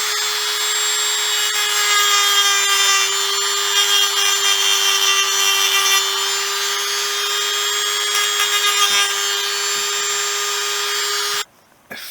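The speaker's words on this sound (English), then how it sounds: "I'm just going to take my Dremel tool and just file that down" A Dremel rotary tool grinds a metal burr off a Honda XL250s motorcycle's lower yoke, a steady high-pitched whine running close and continuous for about eleven seconds before cutting off abruptly.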